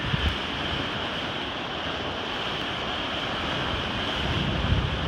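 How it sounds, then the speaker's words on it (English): Strong wind roars across the open Atlantic aboard a sailing yacht, around 12 knots, with a constant rushing hiss and the wash of waves underneath, loud and unbroken throughout. "The wind is picking up."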